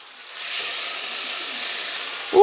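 Beef steak and sweet pepper sauce tipped into a hot pan sets off a loud, steady steam hiss that runs throughout, ending with a brief low knock.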